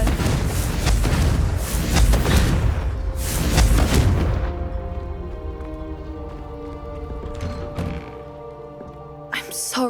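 Confringo spell explosions in the video game Hogwarts Legacy: several loud, crackling fiery bursts land close together at first, then fade into a lingering ringing tail with game music, and a sharp burst comes near the end.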